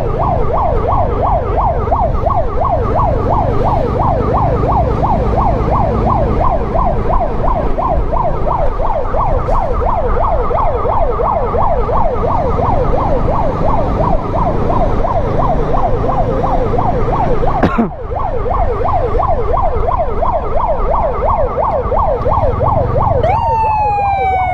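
A wailing ambulance siren rises and falls in a fast, continuous warble, loud and close, with a brief break near the end before it resumes.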